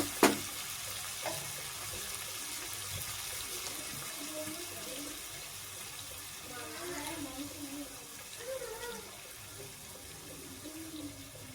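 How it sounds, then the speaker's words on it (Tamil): Chicken fries in oil for Kongu-style white chicken biryani, a soft, continuous sizzling hiss after a sharp knock at the start, with faint voice-like tones surfacing partway through. "சிக்கன் நல்லா ஆயிலே குக் ஆகுது பார்த்தீங்களா?"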